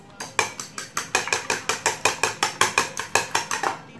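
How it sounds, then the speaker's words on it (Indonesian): Rapid, regular clinking of a utensil whisking against a bowl, about five strokes per second, beating eggs with no talking. "Telur ini kita kocok."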